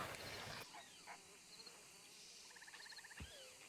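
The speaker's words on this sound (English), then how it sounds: "Uh-oh, I hear bees." Bees buzzing inside a video game, faint insect drones in short repeated bursts over a low ambient bed, quiet and somewhat distant.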